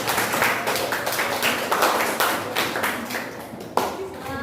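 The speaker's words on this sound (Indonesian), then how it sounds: "Tepuk tangan dulu untuk kelompok 5." Classroom applause for a student group after their cell-division presentation: a steady burst of many hands clapping that lasts throughout, fairly close, with a sharper clap near the end.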